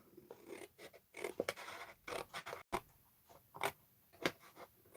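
Scissors snip through cardstock along score lines for a bottle carrier box, producing quiet, irregular crisp cuts and scraping strokes close to the mic.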